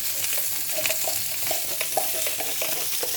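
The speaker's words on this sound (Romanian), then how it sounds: "Am pus și cârnăciorii la prăjit, sunt aproape gata." Small sausages fry in a pan for an English breakfast, a steady close sizzle with crackling pops and occasional clinks of a utensil stirring, no voices.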